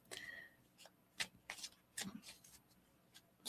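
Tarot cards are shuffled by hand close up, a run of crisp snapping riffles and soft slides in an uneven rhythm with quiet pauses between bursts.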